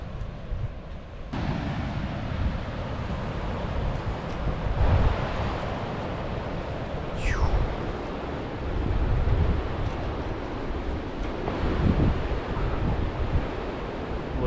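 Wind buffets the microphone on a beach as waves wash and surge steadily in the background, a continuous rushing roar with gentle swells.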